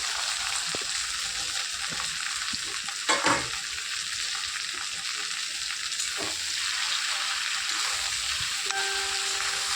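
Okra, potato and prawns fry in a wok, a continuous soft sizzle with occasional scrapes and clacks of stirring, one louder clatter partway through, and a faint tonal hiss near the end.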